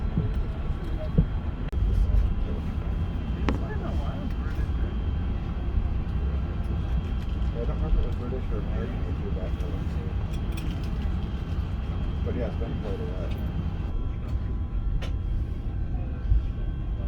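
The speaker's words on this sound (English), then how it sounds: "We started pushback a little late and started our taxi to runway 25 right." A British Airways Airbus A380 taxis toward runway 25 right after pushback, heard from inside the cabin as a steady low engine and rolling rumble with faint rattles and occasional clicks, no talk over it.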